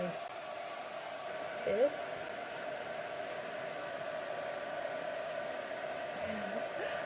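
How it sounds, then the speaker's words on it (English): Heat gun blowing hot air to dry paint on a mixed media canvas, a steady whooshing drone with a constant hum, while someone talks softly in the background. "The heat gun, yeah. It's very distinct."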